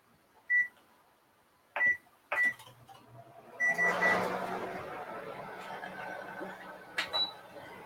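An oven control panel chirps with short electronic beeps as it is set to preheat to 375, four or five spaced tones over a quiet kitchen with a low hum and faint talk in the background.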